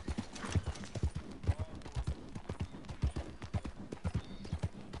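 Horse hooves clip-clopping in Red Dead Online, a steady close walking rhythm of distinct thuds with faint chatter underneath.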